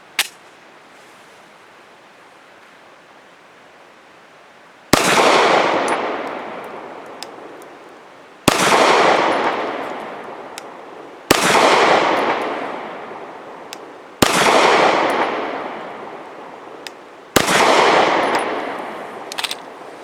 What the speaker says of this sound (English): And now for 5 shots from 7 yards using Nosler 115 grain match.